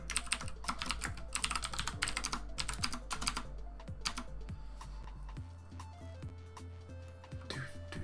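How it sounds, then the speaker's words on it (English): Quick bursts of clicky keystrokes on a computer keyboard, close and moderately loud over a low steady hum, pausing briefly between flurries and thinning toward the end. "if I can type tonight"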